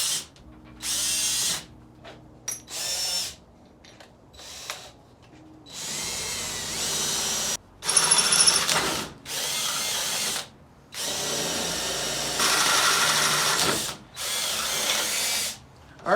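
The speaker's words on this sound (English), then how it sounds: "Think about the length of your drill bit and what you could be hitting." A power drill boring holes into the metal of a Kubota L-Series Grand tractor for rivnuts, in several short high whirring bursts separated by pauses, close and loud.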